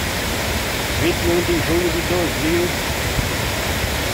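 High water on the Ipanema River in Santana do Ipanema, Alagoas, pours over a foamy waterfall in a constant loud roar while someone speaks briefly over it.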